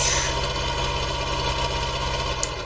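Steady idle of a David Brown tractor engine in a farming game, a low, even mechanical rumble with regular pulsing that runs continuously and close up, with no talk over it.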